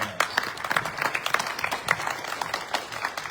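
An audience at a school board candidates forum claps steadily in a short burst of scattered applause, moderately loud throughout.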